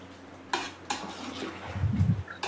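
A spoon stirs masala in a cooking pot for a chicken curry, two clear metallic knocks on the rim followed by soft scraping and a faint sizzle, close and quiet.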